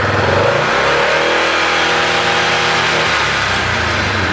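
A Yamaha Wolverine R Spec side-by-side engine revs hard and close, a loud sustained roar that holds high before easing slightly toward the end.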